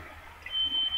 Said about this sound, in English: The fire alarm in my house!